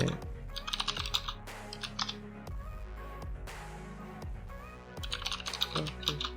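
Computer keyboard typing commands in a terminal, quick irregular clusters of close, crisp key clicks with brief pauses between bursts, fairly quiet.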